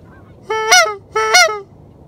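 Two drawn-out goose honks blown on a hunter's goose call at a duck-hunting marsh, each a rising-then-falling nasal bleat about half a second long, loud and close, with quiet background between them.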